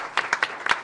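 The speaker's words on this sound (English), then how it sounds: "Round of applause." At a board of education meeting, a few people clap for a newly elected board member: sparse, distinct hand claps spaced apart, fairly close and unhurried.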